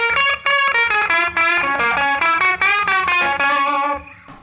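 An electric guitar solo lick run through distortion and chorus effects, a quick string of bright, sustained notes rising and falling at close range for about four seconds, alone with no talk.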